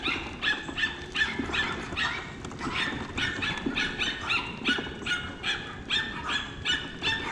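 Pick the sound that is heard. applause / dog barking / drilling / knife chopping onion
dog barking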